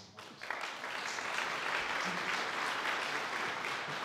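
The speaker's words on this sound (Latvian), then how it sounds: "vēlreiz lielas ovācijas Līgai Krasdelskai, Dzidrai Kreišmanai" A conference audience gives sustained applause, steady dense clapping that starts after a brief quiet moment and continues evenly throughout.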